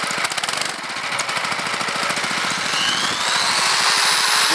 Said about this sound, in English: Just rev the motor up a little bit